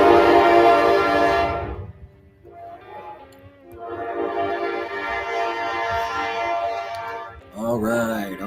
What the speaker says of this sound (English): Hold on, there's a train going by.